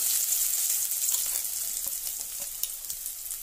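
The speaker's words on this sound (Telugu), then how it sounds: "పచ్చిమిర్చి ఆనియన్స్ వేసుకున్నాము" Green chillies and onions sizzle in hot oil in a pan, a steady close hiss with occasional soft stirring sounds, with no voices.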